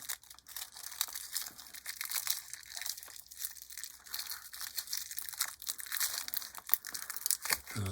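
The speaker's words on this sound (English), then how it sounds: "So these are all wrapped up. I will see if I can unwrap this." Crinkly plastic wrap is peeled off Meng 1/48 F/A-18F Super Hornet model kit sprues, a close, continuous crackling and crunching that rises and falls in bursts.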